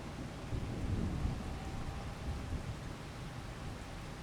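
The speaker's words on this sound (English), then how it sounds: "we'll wait for the rain to pass" Steady rain and rolling thunder in the Farming Simulator 25 video game, a dense continuous wash of falling rain with low rumbling underneath, constant and fairly loud with no voices.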